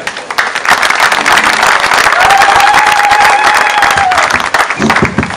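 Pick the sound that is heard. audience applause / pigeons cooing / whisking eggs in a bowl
audience applause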